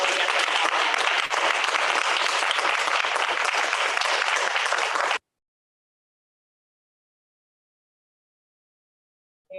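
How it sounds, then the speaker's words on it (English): An audience at a Day of Reparations to African People event in Minneapolis breaks into loud, sustained applause for about five seconds, then it cuts off abruptly to silence. "Let's give one more round of applause."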